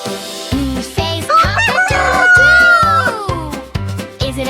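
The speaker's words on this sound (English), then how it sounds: "Or is it a rooster?" A rooster crows a drawn-out, wavering call over a bouncy, repetitive children's music track, loud and close.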